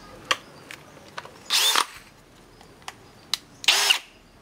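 A Milwaukee M18 FPD Gen2 cordless drill whirs in two short bursts of about a third of a second each. Light clicks and handling taps fall between the bursts, all close and fairly quiet.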